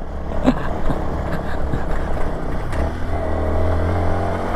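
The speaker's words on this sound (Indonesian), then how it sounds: "Untung aku pakai motor ini." Motorcycle riding uphill on a rocky, fairly neatly laid stone road near the foot of Mount Bismo, engine droning and rising in revs with rattling bumps over the stones, close and fairly loud.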